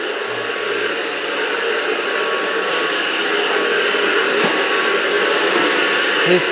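A vacuum cleaner runs continuously at close range, a steady loud whooshing drone with no break and no voices over it.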